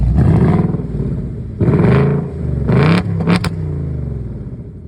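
Active exhaust on a 2024 Ford Mustang GT Premium V8, roaring loudly in repeated rev blips with a deep burbling rumble between pulses, close by and with no talking.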